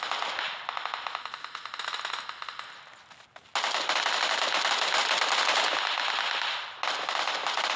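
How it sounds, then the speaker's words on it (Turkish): Heavy firefight with rapid bursts of automatic gunfire crackling in quick strings, broken by a brief lull before dense, continuous volleys resume at a moderate distance. "Aslında şurada çok fena bir çatışma var."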